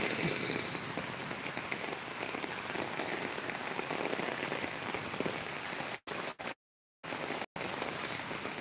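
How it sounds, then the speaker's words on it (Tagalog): Heavy rain pours steadily onto a surface in Tabuk, Buenavista, Sablayan, with a dense, hissing patter, broken near the end by a few brief dropouts. "Ayun na, lumakas ng ulan."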